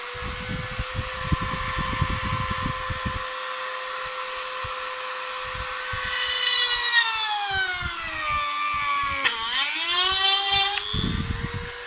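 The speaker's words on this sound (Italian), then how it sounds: "L'ho messa adesso la velocità a 5, la vado ad accendere" A TEENO rotary tool set to speed 5 whines steadily and loudly, its pitch dipping and rising as the bit bites into the workpiece and drills.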